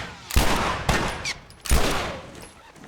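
Three sharp, loud gunshots from The Last of Us ring out a moment apart, each with a short echoing tail.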